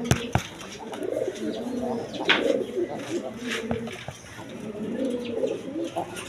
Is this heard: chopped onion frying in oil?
no